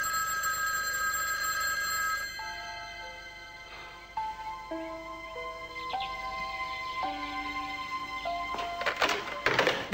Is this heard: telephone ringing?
yes